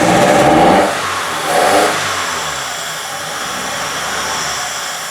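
A car engine roars with two loud revs in the first two seconds, then settles into a steady, rough-running drone after a throttle body cleaning.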